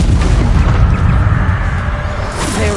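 A heavy magical blast from a spell in the video game Hogwarts Legacy: a loud, dense rumbling boom that fills the whole stretch, with continuous low roar and a faint rising whine near the end.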